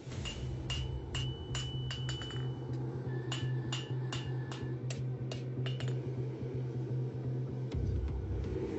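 A hammer strikes steel on an anvil in a blacksmith's forge, sharp metallic ringing blows in an irregular series over a steady low hum, with no talking.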